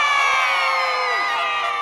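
A crowd at a peace rally in Richmond Hill, Queens, New York screams and cheers loudly and continuously, a close, dense roar of many voices with high whoops rising above it.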